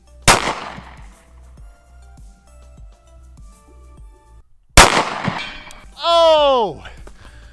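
Two sharp pistol gunshots from a Devil Dog Arms 1911 with a 3.5-inch barrel, fired at an outdoor range toward a 100-yard target, loud and close with a few seconds between them, followed by a bright ringing metallic ping.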